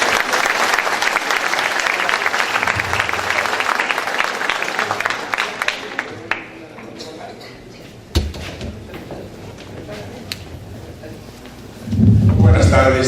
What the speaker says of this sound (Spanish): recibimos con un fuerte aplauso